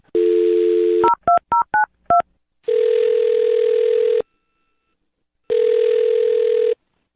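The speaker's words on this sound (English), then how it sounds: "I'll dial his phone number right now" A steady dial tone, then a quick run of touch-tone beeps as a number is keyed, followed by two long ringback tones separated by silence.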